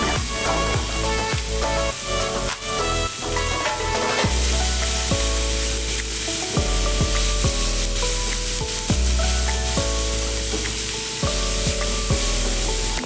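Chopped onions fry in hot oil with garam masala, a loud, continuous sizzle broken by repeated scraping and stirring strokes of a spatula, close up, with no one speaking.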